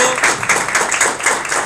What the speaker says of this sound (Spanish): Un aplauso por favor para nuestro panel de expertos